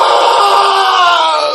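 A man screams loudly and without a break after being stabbed, in a raw, harsh recording from a viral video of a stabbing in Malaysia.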